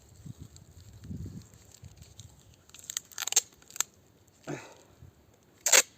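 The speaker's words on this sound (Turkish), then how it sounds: "Güzelce bandını şöyle sert şekilde bir çekin." Grafting tape is pulled tight around a patch bud graft on an olive tree, giving several short crackling, tearing bursts of stretching plastic, close and otherwise quiet.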